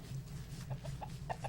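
Short game-style chicken clucks from the blocky RPG Forge Quest, several brief bursts spaced unevenly over a steady low background hum, fairly faint and with no talk.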